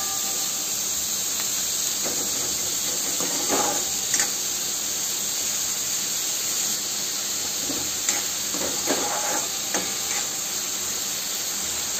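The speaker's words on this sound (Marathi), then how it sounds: "बघा मी खालवरत करत आहे, आणखी याला छान होऊ द्यायचं, याचा ब्राऊन कलर येऊ द्यायचा" Onions for pav bhaji frying in a pan until brown: a steady hissing sizzle close by, broken by occasional scrapes and clinks as they are stirred, no talking.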